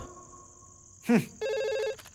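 A telephone rings with a bright, steady electronic tone that pauses briefly and then resumes, while a voice briefly cuts in between the rings.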